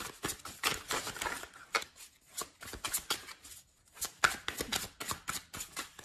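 Tarot cards being shuffled by hand, a rapid run of crisp riffling flicks and slaps that comes in bursts with short pauses, close up and free of talk.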